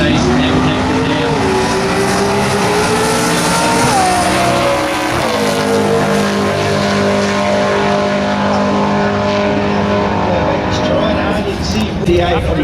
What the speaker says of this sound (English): we see the Barra Race Performance engine on board the Zephyr chasing Neville Eppler down